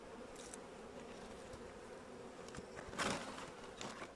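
Forager honeybees fly around a hive in a rural apiary, a faint continuous buzzing hum of many insects with brief louder passes as individual bees fly close, and no voices.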